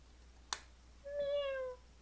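A cat gives a single clear meow, a rising then falling tone lasting under a second, faint and close in an otherwise quiet room, preceded by a brief click.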